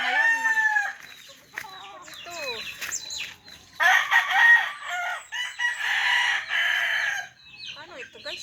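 Chickens cluck and a rooster crows several times nearby on a farm at harvest time, with brief bursts of talking in between the calls.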